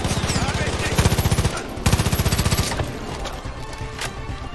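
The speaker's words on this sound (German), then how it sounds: "Maschinengewehr" Rapid machine gun fire from the Far Cry 5 video game, loud, close bursts of fast, evenly spaced shots with brief pauses, then scattered gunfire and effects trailing off.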